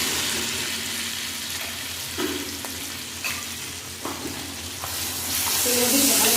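Tomato, ginger, garlic and onion paste fries in oil with a continuous close sizzle, stirred with a few distinct scrapes, and the sizzle grows louder near the end.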